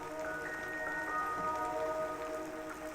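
Steady rain falls in a continuous even patter at constant loudness for the whole stretch, with no voices and no breaks.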